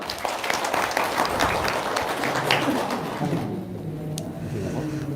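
Audience applause at an Indonesian gathering, a steady wash of clapping filling the room at moderate loudness for several seconds before thinning out, with faint voices underneath.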